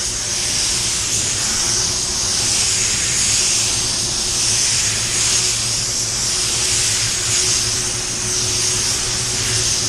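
A paint spray gun set to 22 PSI lays down heavy silver automotive paint in a steady, loud, close hiss that runs unbroken with gentle swells, with no talking over it.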